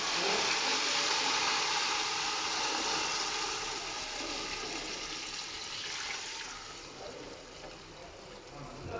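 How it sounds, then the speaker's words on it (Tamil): Water poured steadily into a cooking pot for Arabic chicken majboos, a broad continuous rushing splash that runs the full length, loud and close, easing slightly toward the end. "அந்த அளவு தண்ணி ஊற்றிக்கலாம்"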